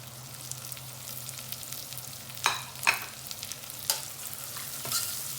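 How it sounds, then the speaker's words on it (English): Onions sautéing in a pan with green chili, a low steady sizzle under a faint hum, broken by a few distinct scrapes and taps of a stirring utensil in the second half. "Let the onions saute."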